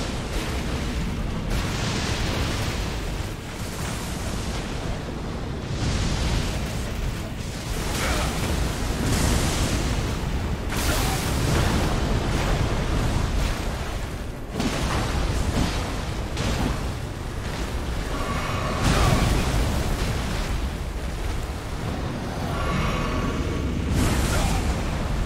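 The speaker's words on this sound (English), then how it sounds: "That means I'm going to die to an explosion." Explosions in the video game Elden Ring, a series of booming bursts and rumbling blasts recurring over a steady roar of battle noise, moderately loud throughout.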